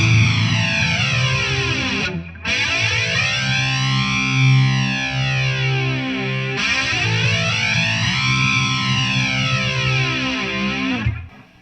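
An MXR EVH Flanger pedal with distortion placed before it colors an electric guitar, a loud distorted tone swept by deep, slow jet-like flanging arcs that rise and fall twice, with a brief gap early on.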